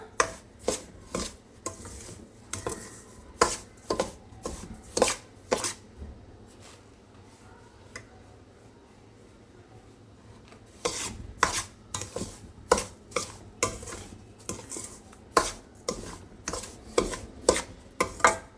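Semolina (rava) is stirred and dry-roasted in a pan for jaggery rava laddoos. A spatula makes rhythmic scraping strokes in quick bursts, with a quieter pause midway. No voices are heard.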